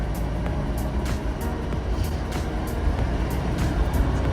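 A 1957 VW Oval Window Ragtop pulls along in third gear, its low, steady engine drone and road rumble filling the cab at close range, with no talk over it.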